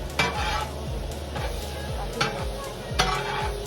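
Onions frying in a hot pan, a steady close sizzle with repeated scraping stirs and a few metallic knocks of the spoon against the pan.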